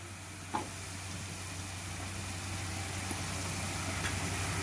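Drumstick pieces for a fish curry dropped into a hot pan, a soft clatter followed by a steady, faint sizzle of frying with light stirring sounds, no talk.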